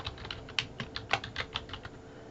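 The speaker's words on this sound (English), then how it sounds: "I'm going to type a city" Quick, light keystrokes on a computer keyboard in an irregular burst of about a dozen taps, close and fairly quiet, with no voices.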